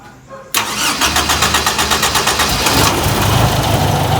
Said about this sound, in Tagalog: medyo hirap lang sa pag-andar pero di kasi niya nagasan